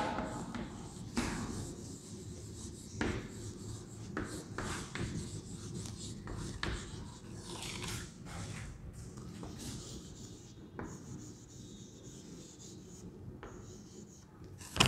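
Marker or chalk writing on a classroom board during an English grammar lesson for young students, with steady scratchy rubbing strokes and occasional taps running continuously, fairly close and moderately loud with no talk over it.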